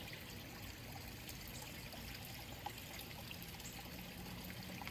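A small waterfall in a garden koi pond trickles and splashes steadily, a soft, even wash of falling water heard alone and at low volume throughout.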